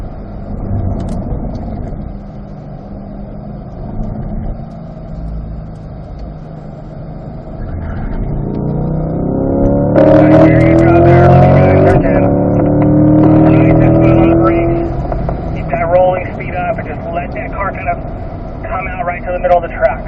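C8 Corvette on the track at Spring Mountain Raceway, its engine note droning loud under a voice, then rising and shifting through a downshift in a long braking zone, with rumbling revs continuing.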